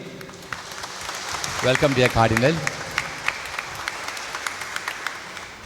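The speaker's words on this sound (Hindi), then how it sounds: "हम लोग तालियों के साथ हमारे कार्डिनल को स्वागत करेंगे।" Congregation clapping to welcome a visiting cardinal at a church celebration, a rising burst of applause mixed with a voice speaking over it, then scattered claps trailing off.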